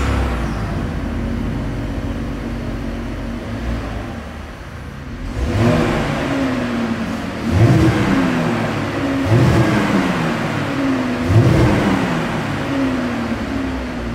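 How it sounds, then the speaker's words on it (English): A 2020 Chevrolet Impala idles with a rumbling exhaust, then revs sharply several times in quick bursts, each rise and fall clearly audible. "here is that exhaust clip"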